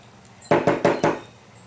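Four sharp, evenly spaced knocks sound up close as debris is tapped out of a motorcycle vacuum fuel petcock, with quiet surroundings before and after.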